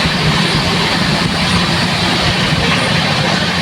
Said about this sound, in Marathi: मला वाटतं 100च्या वर गाडी चालते